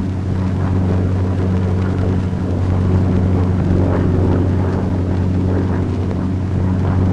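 Curtiss P-40 Warhawk fighter engine climbing after takeoff: a loud, steady, deep droning roar with constant low harmonics and wind rush, unbroken for the whole stretch, no talk.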